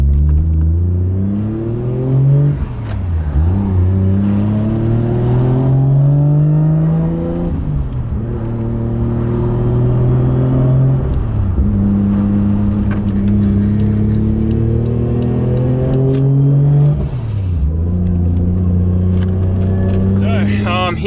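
Toyota Chaser with a big-turbo 1JZ engine revs hard on the street, loud and close, its pitch rising repeatedly and dropping off between pulls in several cycles.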